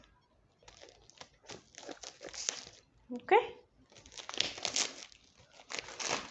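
Plastic packaging of a perfume crinkles and rustles in bursts with a few sharp scissor snips, while a person speaks briefly nearby.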